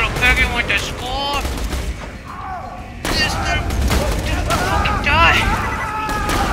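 Borderlands 2 gunfire pops in bursts at close range, mixed with game effects and a talking voice.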